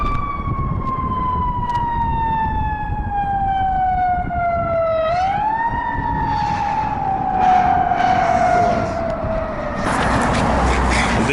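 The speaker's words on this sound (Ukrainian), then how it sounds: "От пожежна машина несеться." A fire engine siren in Canada wails loudly with a long descending tone that dips and shifts as the vehicle passes, with traffic rumble underneath.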